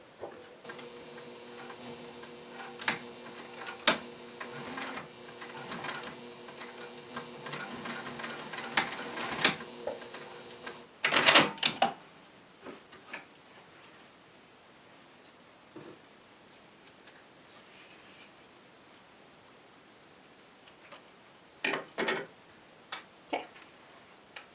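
A domestic sewing machine stitches the finished ends of a strap for a project box, with a steady mechanical ticking run that ends in a louder burst, then scattered quieter clicks and handling.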